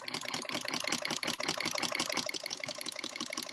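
A sewing machine fitted with a ruffler attachment, set to 12 for tight stitches, runs with a fast, continuous train of sharp mechanical clicks and rattles close by. There is no talking.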